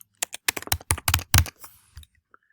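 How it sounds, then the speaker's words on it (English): Keys clatter on a computer keyboard as a name is typed into an online form, a quick uneven run of close, crisp clicks that tails off into near silence. "And I'll be typing in my name."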